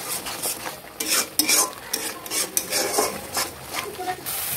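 Spice masala for chicken kosha being stir-fried in a pan with a little water and sugar: continuous scraping strokes of a spatula in an uneven rhythm over a soft sizzle, close and fairly loud.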